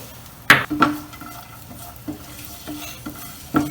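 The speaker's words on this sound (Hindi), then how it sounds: "ये डालेंगे, इसको भून लेंगे, हल्का ब्राउन इसे करना है लहसुन को।" Garlic sizzles quietly in hot oil over a very low flame while a utensil stirs and clinks against the pan a few times, lightly browning it.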